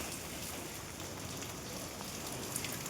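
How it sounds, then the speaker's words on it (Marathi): Rain falls steadily in Alibag on a rainy day, a soft, even hiss of drops that fills the whole clip with no speech. "पाऊस तर कंटिन्यू आहे"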